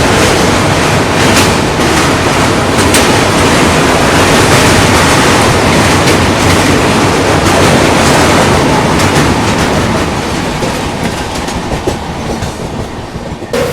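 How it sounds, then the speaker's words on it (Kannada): A train races across a bridge, loud and close, with a dense roaring rumble and a rapid rhythmic clickety-clack of wheels on the rails. The sound holds strong throughout and thins slightly near the end, with no voices. "अच्छे रफ्तार में एक तो चाहिए था ब्रिज के ऊपर ट्रेन."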